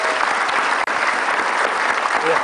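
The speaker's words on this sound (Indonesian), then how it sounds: "Mohon Pak Jamil, Tepuk tangan dulu, Bu." An audience at a motivational seminar breaks into applause, a dense, continuous clapping that fills the room for a couple of seconds with a brief dropout partway through.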